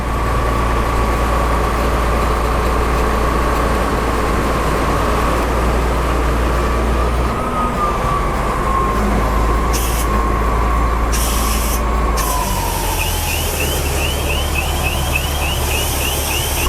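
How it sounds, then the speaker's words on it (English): A side-mount fire engine pumper runs continuously as its water tank drains, a loud, steady engine and pump drone with a whining tone that drops in pitch near the end. "So we're going to drain the tank down."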